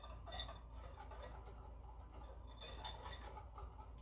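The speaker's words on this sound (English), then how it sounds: "now I'm gonna whisk the sugar and the salt in" A whisk scrapes and clinks steadily around a bowl as sugar and a pinch of salt are beaten into melted dark chocolate for lava cakes, a continuous close rattle with no talking.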